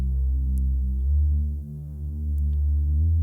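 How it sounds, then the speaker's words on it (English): Solo synth bass line playing in Ableton, a deep throbbing sustained tone with sliding pitch changes, one note after another, loud and alone. "it's my bass line"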